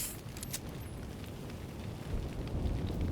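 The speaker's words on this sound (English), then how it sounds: "nice big explosion." A big in-game explosion boosted by stacked headhunter rolls out as a broad, continuous roar. The low rumble swells louder toward the end, and no voices are heard.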